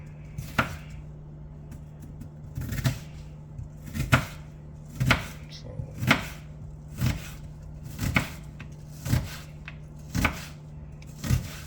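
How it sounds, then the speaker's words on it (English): Onion chopped on a board with a long, bread-style knife: about a dozen firm, evenly spaced thuds roughly one per second over a low steady hum, close and unaccompanied by talk. "I'm gonna go ahead and chop all of this onion and get it up in there"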